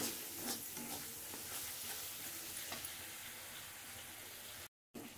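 Spice paste frying in a pan over a low gas flame, a soft continuous sizzle with light stirring scrapes throughout and a brief dropout near the end, no talk.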